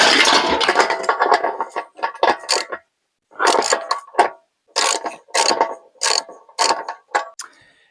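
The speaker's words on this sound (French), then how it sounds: "on retire cet écrou-là. Hop, douille de 32." A 32 mm socket wrench undoing a nut on an old moped gives quick bursts of close, loud ratcheting clicks, grouped into several short rhythmic strokes with brief pauses between them.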